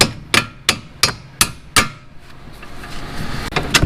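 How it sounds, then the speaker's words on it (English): A hammer knocks a strut bolt through on a Ford Fusion during a lowering spring install. Five sharp metallic strikes land at an even pace, then faint scraping follows, with two more light taps at the end. "just gonna take a mallet or a hammer with some light pressure and just knock the bolt through,"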